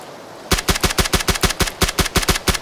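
Rapid automatic gunfire from PUBG Battlegrounds, a steady burst of about fifteen loud, close shots in even rhythm, standing alone with no talk over it.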